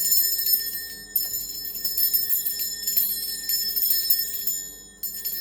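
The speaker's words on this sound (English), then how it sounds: "I'm going to be ringing this bell just to cleanse the space around us." A small handheld bell rings repeatedly in a clear, bright, sustained shimmer, its strikes overlapping into a continuous ringing tone in a quiet room.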